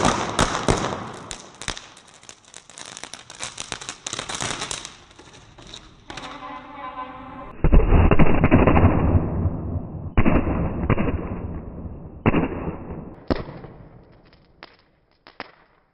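A homemade sky shot firework is set off outdoors, with a hissing fizz followed by a series of sharp pops and bangs of varying loudness and some crackling, then fading out.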